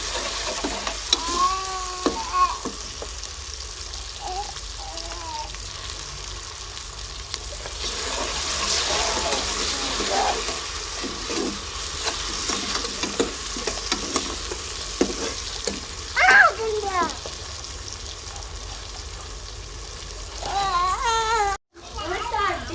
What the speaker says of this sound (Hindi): इसे 2-3 मिनट भूनेंगे अदरक लहसुन के पेस्ट को